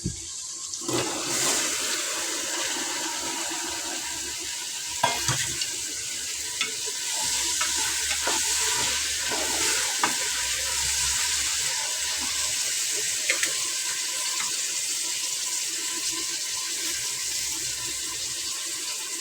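Mixed vegetables for sambar sizzle and fry steadily in a pan, with occasional stirring clatter and scraping over a continuous hiss, close and moderately loud, with no talking.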